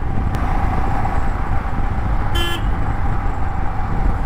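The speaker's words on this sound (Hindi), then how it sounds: "ये रास्ते में बहुत ज़्यादा ट्रैफिक रहते हैं" Busy road traffic around a motorcycle ride comparing a Royal Enfield Himalayan and a Yezdi Adventure, with a steady rumble and one short, loud car horn toot near the middle.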